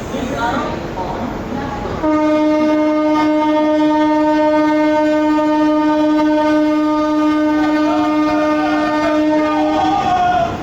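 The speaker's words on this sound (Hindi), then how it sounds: "कानपुर सेंट्रल रेलवे स्टेशन की प्लेटफॉर्म नंबर 2 पर अराइव करते हुए संपूर्ण क्रांति एक्सप्रेस" The Sampoorna Kranti Express arrives at Kanpur Central platform 2, its loud sustained horn blaring for several seconds over the rumble of the moving train.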